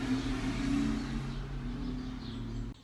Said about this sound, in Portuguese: os carros não estão colaborando nem um pouco para que eu grave esse vídeo